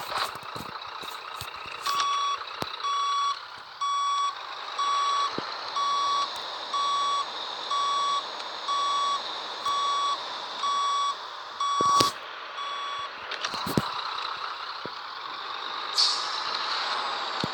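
A truck in a video game reverses with a loud, evenly spaced run of electronic beeps. Air-brake hisses and other game noises break in around the beeping.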